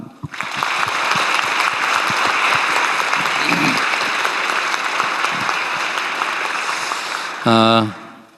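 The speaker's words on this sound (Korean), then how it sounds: "우리 대한민국 국민과 함께 박수로 환영합니다." Loud, dense audience applause welcoming about two hundred science scholarship students at a presidential meeting, sustained for several seconds before a brief tonal sound near the end.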